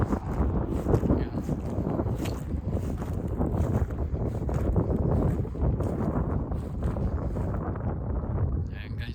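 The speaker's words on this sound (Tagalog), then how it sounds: "Medyo mahangin lang" Steady outdoor wind buffets the microphone as a low, continuous rumble while someone rides a bike on a street in Canada, and it stays loud throughout with no clear speech.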